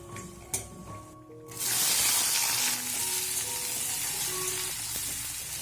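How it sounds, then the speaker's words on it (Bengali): Sun-dried lentil dumplings (bori) fry in oil with vegetables, five-spice and dried chillies. A couple of light knocks come first, then a loud, steady sizzle swells up and carries on close by. "বড়িটা একটু ভাজা ভাজা হোক।"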